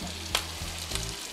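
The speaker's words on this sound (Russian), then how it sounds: "Мясо не трогаем. Жарится и жарится." A striploin steak sizzles steadily in a hot frying pan, the close, continuous crackling hiss broken by a couple of sharper spits, with no talking over it.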